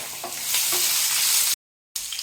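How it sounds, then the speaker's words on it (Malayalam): Dried red chillies, green chillies and chopped shallots fry in hot oil for a ginger curry, giving a loud, steady sizzle with stirring. The sound drops out briefly near the end, then resumes. "4-5 വറ്റൽമുളക് നമ്മൾ നുറുക്കിയതും 2 പച്ചമുളകും ഒരു 5 കൊച്ചുള്ളി അരിഞ്ഞതും കൂടി ഇതിനകത്തോട്ട് നമുക്ക് ചേർത്ത് മൂപ്പിച്ചെടുക്കാം"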